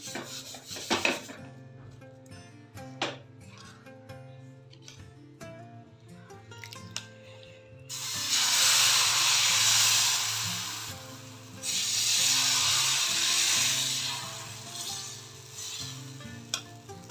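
Ragi dosa batter sizzling on a hot pan, a broad hiss rising loudly after a few scattered scrapes and taps, holding steady with a brief dip before swelling again, no voices.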